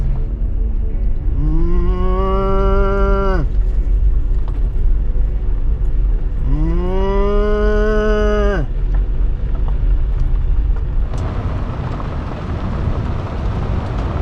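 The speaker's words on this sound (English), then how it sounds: "we got a cow up here that's playing chicken with us" A cow on Colorado grazing land gives two long, loud, close moos a few seconds apart over a steady low rumble, followed by a burst of broad noise.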